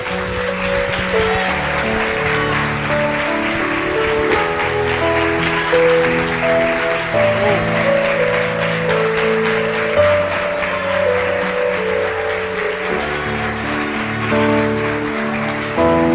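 Church congregation clapping along during a worship service, steady rhythmic hand claps mixed under loud sustained keyboard or organ-like music chords, no talking heard over the clapping.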